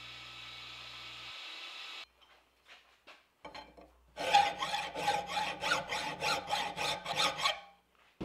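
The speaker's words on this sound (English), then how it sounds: "I'm hand sanding this out before I heat treat it this time" A steel knife blade for a copper-backed trench Bowie knife is hand sanded before heat treatment, about ten quick, rhythmic rasping strokes up close, preceded by a low hum and a few light taps.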